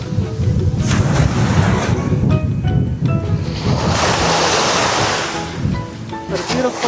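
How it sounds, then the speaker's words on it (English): Surf breaking on a Palm Beach stretch in Aruba, a steady broad wash of waves with wind noise, swelling louder midway, with faint background voices underneath. "a beautiful stretch of beach here"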